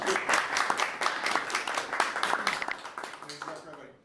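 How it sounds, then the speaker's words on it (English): Audience applause at an evening tech meetup, a steady crowd clapping that carries on for several seconds and then fades out toward the end. "we can do the clap."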